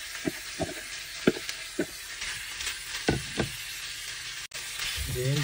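Garlic and cabbage sauté in a pan for stir-fried cabbage, a soft hiss of frying under intermittent knocks and scrapes of a utensil stirring against the pan.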